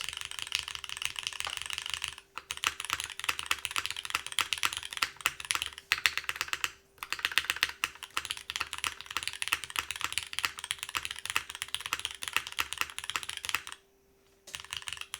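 Continuous fast typing on a Cloudline V2 mechanical keyboard fitted with O-rings, a dense clatter of close, crisp keystrokes with brief pauses, including a heavier spacebar thock.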